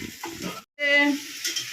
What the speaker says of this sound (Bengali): তো চলো পেঁয়াজটা ভাজুক